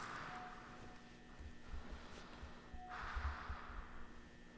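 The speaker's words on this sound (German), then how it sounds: "Hört ihr sein Atmen an?" Slow, hollow breathing through a gas mask in a horror video game, two drawn-out breaths with rushing air, fairly quiet against a low rumbling background.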